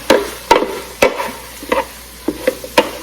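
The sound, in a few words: stirring linguine mixture with oregano in a Ninja Speedi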